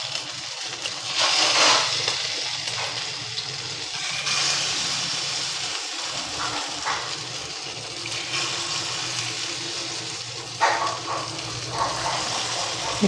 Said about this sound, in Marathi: त्याच्यामध्ये आता हे बुडवून आपण हे तळून घेऊया